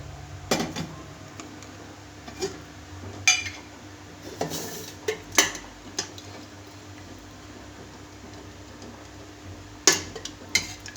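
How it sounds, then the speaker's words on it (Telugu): A kadai pan set down on a stove, giving several sharp metallic clanks and clinks at irregular intervals, close and fairly loud, over a quiet kitchen background with no talking. "ఇక్కడ కడాయి పెట్టాను."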